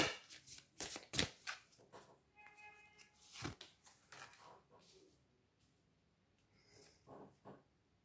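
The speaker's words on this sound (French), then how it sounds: "Je vais le remonter un peu parce qu'on va tirer plusieurs cartes." Oracle cards shuffled and drawn by hand, with quick, soft riffling and slapping bursts up close at first that fade to faint, sparse card handling.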